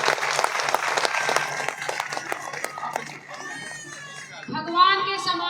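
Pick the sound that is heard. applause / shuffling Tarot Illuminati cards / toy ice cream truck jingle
applause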